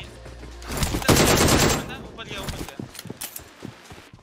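Shotgun and other gunfire in a shooter video game comes in a few quick, punchy bursts with rapid follow-up shots at close range, while someone talks over the action.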